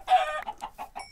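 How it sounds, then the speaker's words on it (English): A Minecraft chicken clucks in a quick run of short, bright clucks, the first stretched and loudest, then four clipped ones at a steady pace, close and clear with no talk. "Where's my chicken?"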